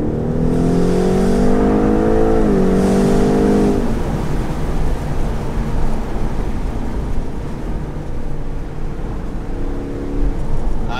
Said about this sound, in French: Ah, déjà au niveau du son de la voiture